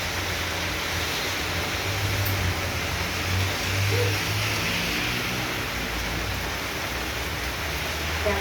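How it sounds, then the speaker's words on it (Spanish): Heavy rain shower in Medellín tapering off, a broad steady hiss of rainfall on surfaces with faint distant traffic underneath, even and continuous without voices. "Pero ya está terminando de llover."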